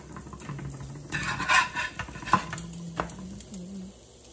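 French toast cooking in a pan over low heat, with clinks of utensils against the pan, a soft stir and scrape, and faint sizzling underneath, at close range with no talking.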